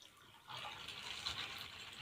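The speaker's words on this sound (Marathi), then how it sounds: "आणि आता परत त्याच्यात पाणी ऍड करते" Water is poured over soaking sabudana (tapioca pearls) in a container, a faint, close, steady splashing pour that starts abruptly after a short quiet moment, with no speech.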